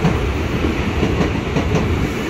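A KRL Commuter Line electric train, a 12-car set bound for Jakarta Kota, runs through Mangga Besar station with a loud, steady rumble and a faint rhythmic wheel clatter that continue without a break.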